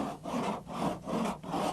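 Rasping strokes of a cheese grater shave partly cured Bondo body filler on auto bodywork, four even back-and-forth scrapes with short pauses between them, close up and soft.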